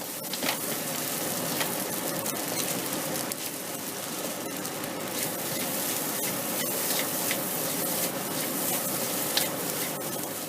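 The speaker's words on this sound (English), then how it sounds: "once you stir it around to make sure that soy sauce gets into the whole dish" Fried rice sizzling loudly in a hot pan as it is stirred with dark soy sauce, a steady dense crackle with scraping stirs throughout.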